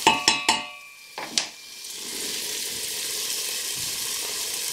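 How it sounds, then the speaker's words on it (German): Vegetables go into a hot pan with a few quick clanks, then settle into a steady, close, hissing sizzle as they fry. "Und lassen wir jetzt erstmal das ein bisschen mit anbraten."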